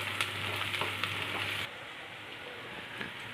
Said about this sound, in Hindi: ऑयल गर्म हो चुका है, इसमें अब हम कटी हुई प्याज डाल देंगे। प्याज को अच्छे से भून लेंगे।